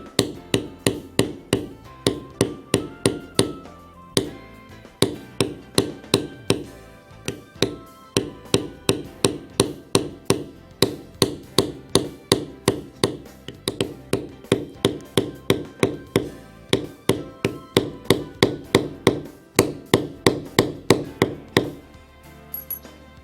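Steady rhythmic mallet strikes on a leather beveling tool, tapping along the inside of straight borders around basket-stamped leather, each blow a crisp near knock repeating at a quick even pace throughout with no talking.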